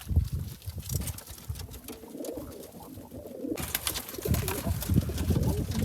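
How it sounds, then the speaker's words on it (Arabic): Homing pigeons in a loft cooing, soft repeated low coos near the listener with rustling and fluttering between them, no talk. "هذا الزاجل ما شاء الله تبارك الله."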